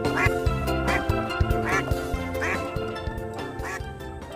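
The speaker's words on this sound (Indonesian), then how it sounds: "Wow, ini ada bebek." A white duck quacks repeatedly in short, loud bursts at a fairly regular rhythm, close by, with no talking.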